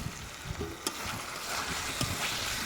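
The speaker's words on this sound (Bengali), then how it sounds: "আলুটা এইরকম করে দু থেকে তিন মিনিট খুব ভালো করে কষে নেব মশলার সাথে" Boiled small new potatoes frying in spice paste with fenugreek for Bengali aloo dum, a soft low sizzle with a few light scraping stirs of the spoon against the pan, fairly quiet and without talk.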